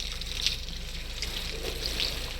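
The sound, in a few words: running water of a shower in a video game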